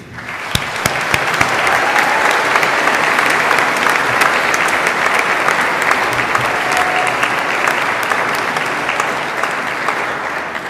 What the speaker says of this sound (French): il est tout à fait approprié de les applaudir maintenant